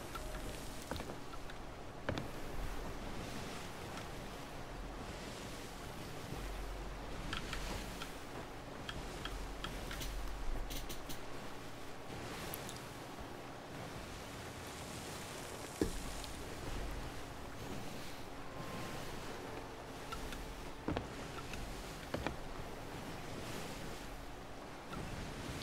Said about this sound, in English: Waves are loud down there.